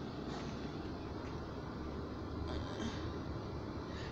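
Inside a moving passenger train, a steady low rumble and hum of the carriage fills the background, with faint rattles and no clear voices.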